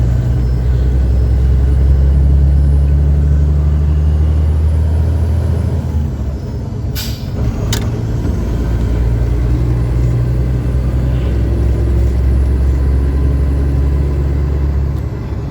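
Heavy stream of cars and trucks rolling past on an icy highway, a loud constant low rumble of engines and tires, with a brief sharp hiss like an air brake partway through.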